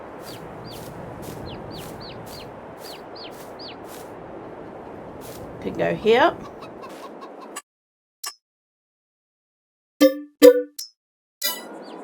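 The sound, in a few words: chickens clucking in a farming video game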